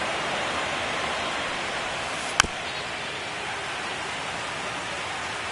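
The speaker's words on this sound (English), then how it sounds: "the field's not going to be able to hold up if the rain gets any worse than this" Steady rain pours onto a baseball field in MLB The Show 25, a dense, even hiss throughout with a single sharp click partway through.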